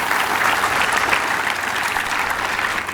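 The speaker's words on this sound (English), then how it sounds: "So round of applause for them." Dense, steady applause from a large audience at a building groundbreaking ceremony, loud and continuous for the whole stretch with no break and no voices.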